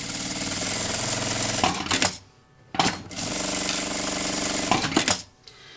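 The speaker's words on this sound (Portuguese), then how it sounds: "Essa tirinha de tecido, vou passar uma costura em cada lateral." Sewing machine stitching along the sides of a fabric bag strap, a loud close rapid mechanical whir that runs continuously, stops briefly twice, then starts again.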